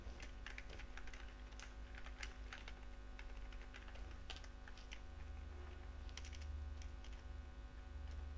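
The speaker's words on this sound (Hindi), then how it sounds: "मैं यहाँ पे कोई टेक्स्ट टाइप करता हूँ" Keys on a computer keyboard are typed in quick, irregular bursts of soft close clicks over a low steady hum, with no voices.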